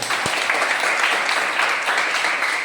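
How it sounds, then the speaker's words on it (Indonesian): Classroom applause from students rewarding a correct answer in an Indonesian biology lesson, a dense steady clapping that fills the whole moment at close range with no talk over it. "berikan tepuk tangan"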